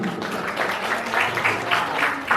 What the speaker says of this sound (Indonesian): Tepuk tangan untuk Indah dong.